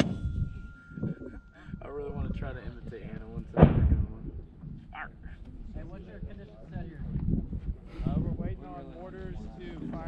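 USMC 60mm mortar firing outdoors, a single sharp loud blast amid wind noise, with voices talking before and after.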